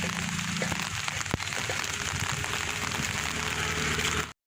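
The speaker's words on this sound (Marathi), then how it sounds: "एक बारी पाऊस आला आहे" Rain falling steadily on a Konkan village road near a Ram temple, a dense, even hiss of drops that stays loud and unbroken throughout, with no voices.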